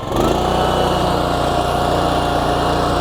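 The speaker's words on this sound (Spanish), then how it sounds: "La máquina arranca perfectamente. Aquí es donde podemos acelerarla o bajar la velocidad al motor." A Pubert brush mower with a Honda engine runs loud and close at a steady, throbbing idle, chugging evenly throughout with no talking.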